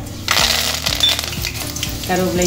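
Cloves, cardamom, cinnamon and curry leaves dropped into hot oil for mutton uppukari, a bright crackling sizzle with sharp pops and metallic clinks of a spoon against the pan, close and steady, no talk.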